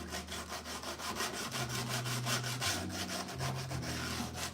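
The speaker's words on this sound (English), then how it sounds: "This is pretty coarse sandpaper." Coarse, heavy-duty sandpaper scrubbing a locomotive model kit part in steady back-and-forth strokes, close and continuous for several seconds with a low hum underneath.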